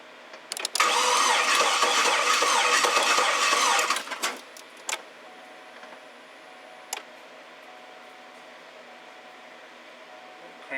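2008 Cadillac Escalade cranking with all bank 2 spark plugs removed, a loud, fast, even starter whir for about three seconds that stops abruptly, followed by a few faint ticks and clicks.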